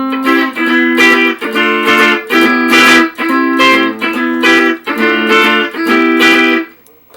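Guitar strums the intro of a song without palm muting, ringing open chords in a lively rhythmic pattern of repeated strums, loud and close with no voices.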